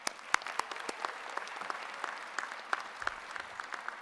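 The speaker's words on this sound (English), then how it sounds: "So one more round of applause." Audience applause at a Thunderbird convocation ceremony, a steady sustained round of clapping from a moderate crowd with distinct individual claps standing out, heard alone without talk.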